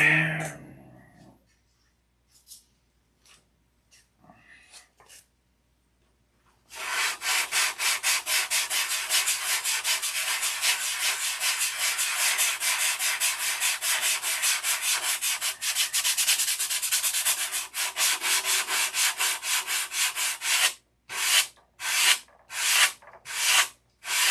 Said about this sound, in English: Sand the inside of the wing. So I need a little sandpaper in hand for this tip.